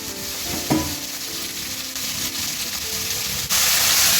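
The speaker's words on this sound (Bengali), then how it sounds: "এবার এর মধ্যে দিয়ে দেবে চিংড়ি মাছ।" Large prawns are added to potatoes already fried with salt and turmeric. They sizzle loudly in the pan with steady frying hiss and brief stirring scrapes throughout.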